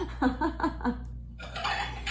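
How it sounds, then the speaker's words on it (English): Dishes being washed, with pots and cutlery clattering in a rhythmic series of close clinks and knocks, then a brief rinse-like rush under a steady low hum. "do the dishes right now"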